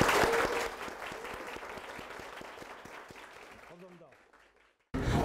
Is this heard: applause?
yes